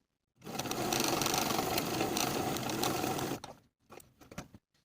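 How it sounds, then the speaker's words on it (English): A sewing machine runs steadily for about three seconds, stitching long basting stitches along the head of a cropped jacket sleeve, then stops and gives a few short, uneven whirring bursts close by. "we're going to sew basting stitches from outer notch to outer notch along the sleeve head"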